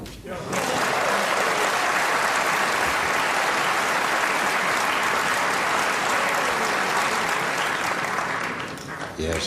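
Sustained applause from a snooker crowd at the 1986 Crucible match between Steve Davis and Joe Johnson, starting abruptly and filling the hall at a steady, loud level for about nine seconds before tailing off.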